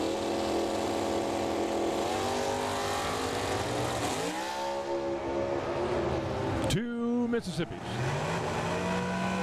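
Drag race cars launching side by side down the strip at Firebird Motorsports Park, a loud sustained engine roar with rising pitch sweeps and a brief gap near the end, under an announcer's running commentary.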